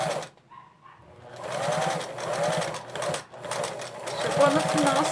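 A sewing machine runs in steady close bursts while stitching a patchwork rag rug from fabric scraps, pausing briefly between runs, with someone talking over it.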